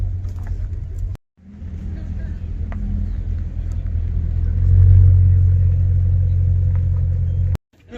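A Bentley Continental GT drives past at a car meet, its low engine rumble swelling to a peak midway and then easing, with faint background noise and abrupt cuts at both ends.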